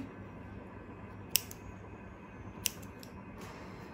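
Scissors snip knitting yarn twice, two crisp, faint clicks about a second apart over a quiet background hiss, with a softer click following.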